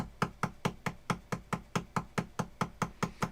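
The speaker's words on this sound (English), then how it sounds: "all I'll hear is her tail against the bed going." A dog's tail thumps against a bed in a steady, even rhythm of about fifteen soft knocks, close to the microphone with no voices.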